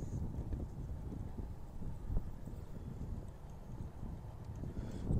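Wind buffets a small microphone outdoors on a trail beside a truck, a steady low rumbling roar that swells and gusts throughout with no other clear sounds.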